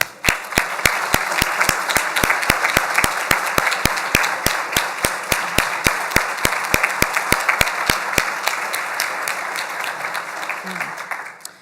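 An audience at a breakfast event claps steadily in sustained applause for several seconds, with a few sharp, louder claps standing out near the front before it tapers off.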